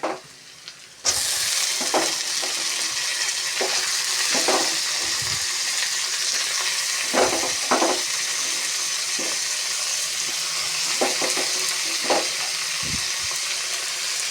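Onions fry in a pan for street-style egg chowmein, a loud, continuous sizzle broken by repeated scraping knocks of a spatula stirring, close and unaccompanied by speech.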